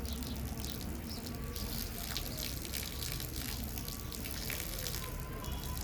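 Water poured out as a morning offering to the sun, a steady rushing splash that runs unbroken at an even level from start to finish.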